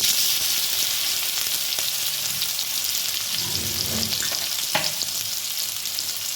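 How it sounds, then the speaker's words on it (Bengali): Steady, close sizzle of bitter gourd frying in a hot pan, with occasional scraping and stirring sounds over the constant crackle. "এবার আমি উচ্ছেগুলো ভেজে নিচ্ছি"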